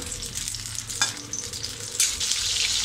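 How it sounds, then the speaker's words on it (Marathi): Green chillies sautéing in a pan in Malvani-style Konkan cooking, a continuous close sizzle with brief scraping stirs marking the pan, no voices. "आपल्या मिरच्या थोड्या परतून झाल्या आहेत."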